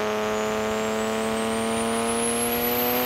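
Car engine revving hard with steady harmonic drone and rising high whine, loud and continuous, like a turbocharged car under boost; no distinct voice imitation is evident, just sustained motor noise.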